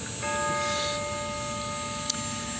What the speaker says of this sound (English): See, the bell tower here.